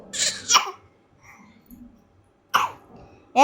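A child coughs in a short, harsh burst at the start and then again near the end, close and loud, with faint quiet sounds between the bursts.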